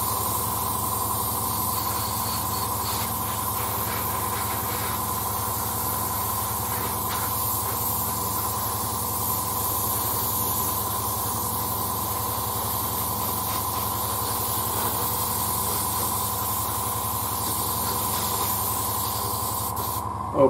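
An airbrush sprays varnish onto a Whippet scale model, giving a steady, continuous hiss with a faint compressor hum underneath, unbroken for the whole stretch.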